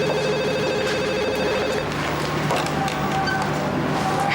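An outgoing phone call to a family home, with a steady electronic ringback tone repeating its tonal pulses, alone and fairly loud.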